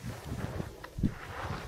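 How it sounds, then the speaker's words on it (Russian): Strong wind gusts on a frozen river in deep winter, buffeting the microphone in low rumbling surges that swell and ease, fairly loud, with no talk. "здесь очень сильный ветер."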